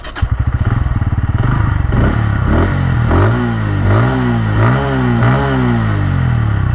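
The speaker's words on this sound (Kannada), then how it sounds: "ಸೊ ಈ ಥರ ಎಕ್ಸಾಸ್ಟ್ ಕೇಳುತ್ತೆ." A Bajaj Pulsar P150 motorcycle idles close by with a rapid thumping exhaust, then revs up and down repeatedly in rising and falling surges, loud and alone with no voices.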